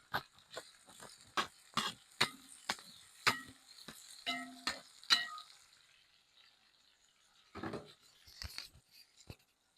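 Jamaican curry mince beef cooks in a pot as a spoon knocks and scrapes through it in a quick run of sharp, close taps, then a pause, then a few more clatters.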